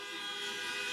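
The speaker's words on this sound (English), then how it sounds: "Honk if you're going to vote early." Car horns honk at an outdoor voter mobilization rally in Las Vegas, a brief overlapping blare of sustained tones that sounds moderately distant.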